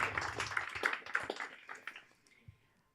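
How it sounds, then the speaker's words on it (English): A comedy-club crowd at a stand-up show in Lviv gives a short burst of dense clapping that thins out and fades within about two seconds, followed by a few scattered claps and a quiet room. "can we have a little round of applause for that?"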